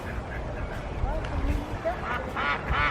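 Ducks quacking at a pond in Farmington, Utah, with short bursts and honks over steady outdoor wind and ambient noise, while people talk nearby.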